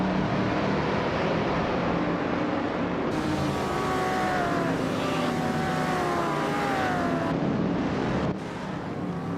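Race cars in a racing video game, among them a 1965 Lamborghini 400 GT, launch off the line with a loud, continuous engine roar and rising whines that carry straight through without any talk.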